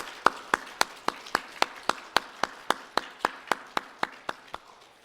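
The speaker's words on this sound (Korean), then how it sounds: "우리 다시 한번 하나님께 영광의 박수 올려드리겠습니다" A church congregation claps in unison during a university Sunday service, with about nineteen crisp, evenly spaced claps over five seconds that soften slightly toward the end.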